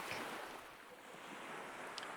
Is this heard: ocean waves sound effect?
yes